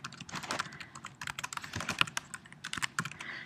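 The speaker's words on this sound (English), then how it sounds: "So now I would go ahead and type in a little description" Fingers type steadily on a computer keyboard close up, a brisk irregular clatter of key taps with short pauses, no voice.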